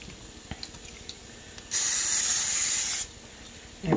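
Cooking spray on a turkey bacon patty melt in a pan: a single hissing aerosol burst of just over a second, close and steady, with light clicks and clatter before and after.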